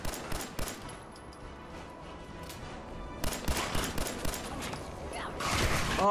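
Gunfire in Fallout 4 during a fight with a super mutant, rapid bursts of sharp shots in clusters with pauses between, loud and close, growing heavier near the end.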